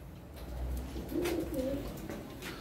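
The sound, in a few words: pigeons cooing in a pigeon coop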